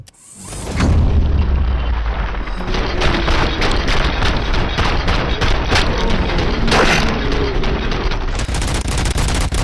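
A grenade bursts in Robocop Rogue City's steel mill, a sudden loud boom that gives way to a long, dense stretch of close gunfire and rumbling impacts.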